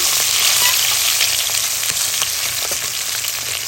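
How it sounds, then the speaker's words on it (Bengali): Dried red chillies and five-spice seeds fry in hot oil for a fish-head lentil dish, giving a loud, steady sizzle with faint crackles throughout and no voices. "তিনটা শুকনা মরিচ এক চামচ পাঁচফোড়ন দিয়ে একটু ভেজে নিচ্ছি"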